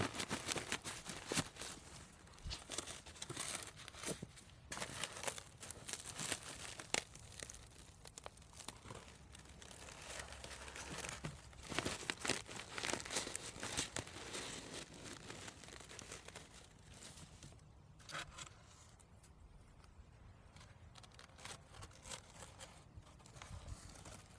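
Dry paper of a basketball-sized, very light paper wasp nest crinkling and crackling steadily up close, a soft continuous rustle with occasional sharper crunches and no talking.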